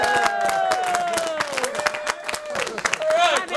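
An audience claps steadily and rhythmically during a live comedy show, close and dense, while voices talk and shout over the clapping.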